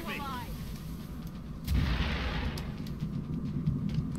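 Gunfire and blasts in the turn-based strategy video game XCOM: Enemy Unknown, a dense battle din of shots and booms that grows louder partway through, with muffled voices underneath.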